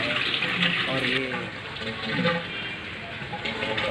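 Water runs steadily from a household tap, a continuous gushing wash that carries through the whole stretch, with a voice talking over it at moments.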